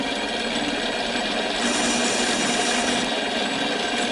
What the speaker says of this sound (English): We're going to fire up the lathe and start moving this down.